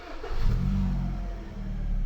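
A Hyundai HB20 engine starts with the clutch pedal pressed during a starting-system check, giving a close, steady low rumble that swells briefly and then settles into an even idle.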